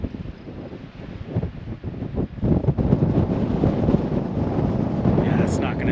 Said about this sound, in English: The wind is really picking up out there.